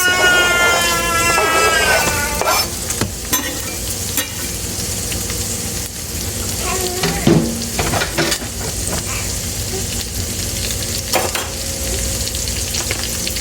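Onions sizzling in bacon grease in a pan, a loud, continuous frying hiss throughout, broken by occasional stirring scrapes and clicks.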